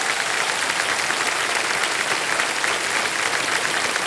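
Studio audience applause on a televised Hindi quiz show set, a dense, continuous clapping that stays loud and even throughout, with no voices over it.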